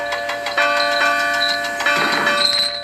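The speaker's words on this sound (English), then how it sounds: "The bell chimed cheerfully as it was loaded onto Duncan's flatbed." A large bell rings with sustained, ringing tones, struck several times in succession, its overtones hanging in the air, loud and close.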